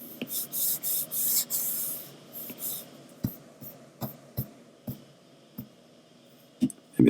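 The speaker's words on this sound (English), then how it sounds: "just kind of go back and erase a little bit" Eraser scrubbing across paper on a pencil drawing of a cartoon dragon makes soft, brisk rubbing strokes in a quick series at first, followed by sparser light taps and scratches, all close and quiet.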